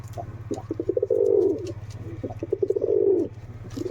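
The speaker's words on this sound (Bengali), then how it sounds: "এদিকে মাদিরে ডাকছে দেখো" A female Jacobin pigeon coos close by in two rounds of soft stuttering notes that swell into longer throaty rolls, over a low steady background hum.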